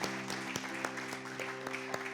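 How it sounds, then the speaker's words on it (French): A church congregation claps steadily in a dense wash of applause with a few louder individual claps, honoring the pastor during a service. "Nous acclamons le pasteur."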